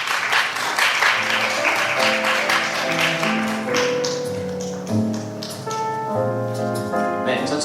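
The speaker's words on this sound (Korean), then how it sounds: "힘찬 박수로 맞이해주시기 바라겠습니다." An audience claps in steady applause for a high school contestant at the 2023 Chungbuk youth FameLab science communication contest, over bright walk-on music that carries on as the clapping fades.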